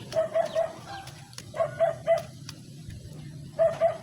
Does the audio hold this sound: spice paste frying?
no